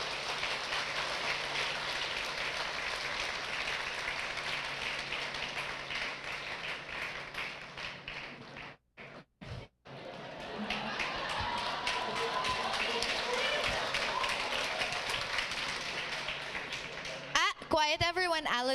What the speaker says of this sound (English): a round of applause for Alan Alcantara.